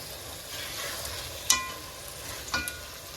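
Mutton frying in a pan with ginger paste: a steady close sizzle with occasional sharp pops and scraping stirs, continuous and alone with no talking.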